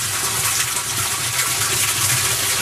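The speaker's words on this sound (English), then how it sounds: "there we go, the siphon's kicked in" Water rushes and gushes continuously as a bell siphon kicks in and drains a backyard barrel aquaponics system, a steady turbulent flow with no voices.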